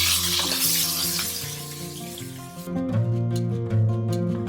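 Cumin, garlic, ginger and green chilies crackling in hot oil for masala bhindi, a loud dense sizzle with sputtering pops that settles into a steadier fry with rhythmic crackles, close and without speech.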